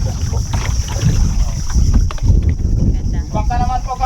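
Small donated wooden bangka motoring across the sea off a pink sand beach in Zamboanga City, with steady loud engine and water rush and wind buffeting the microphone throughout; people talk faintly underneath.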